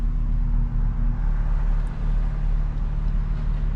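Steady interior drone of a BMW M2 on the road, a constant low engine and tyre rumble with a faint tonal hum, heard from inside the cabin without speech.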